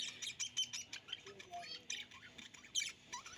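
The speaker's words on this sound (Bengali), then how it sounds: "আমার বাড়িতে কিন্তু এই পাখির ডাক সব সময় আমি শুনতে পাই" Faint, rapid squawks and chirps from birds around a house repeat in quick, overlapping bursts over a quiet background, sounding somewhat distant and soft.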